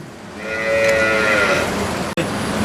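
A cow at a cattle market gives one loud, close, drawn-out moo that rises and fades over about a second, against quiet background noise and a brief thump.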